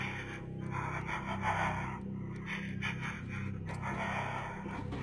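In a horror video game, a creepy woman's heavy, rhythmic breathing and panting comes over a phone line. It is faint and close, with a low electronic hum and eerie tones beneath it.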